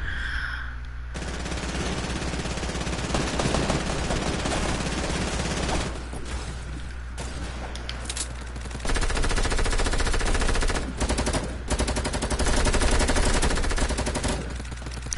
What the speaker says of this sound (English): Dude, what are you shooting at?